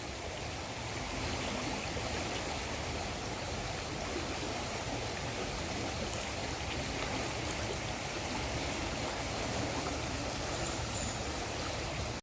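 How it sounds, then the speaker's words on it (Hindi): Rushing floodwater rising after monsoon rain in Haridwar, a steady broadband roar of flowing water heard from nearby without pause. "इतनी तेज़ी से बढ़ रहा है पानी"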